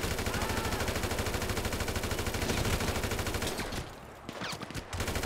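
Heavy automatic gunfire aimed at the player in GTA 5 pounds continuously and loud for several seconds, then breaks into a few shorter bursts as it tapers off.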